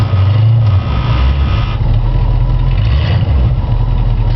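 A 1963 Ford Thunderbird engine idles steadily close by, a continuous low rumble that stays level and even throughout, with no voices over it.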